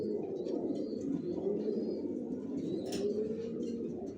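Racer pigeons of a large, long-bodied breed coo softly in a low, rolling drone, several birds overlapping continuously with faint chirps and rustles nearby.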